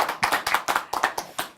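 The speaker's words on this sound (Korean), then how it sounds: "다 같이 박수." A church audience claps together in a steady, even rhythm, about ten sharp claps spaced evenly, moderately loud with no talking over them.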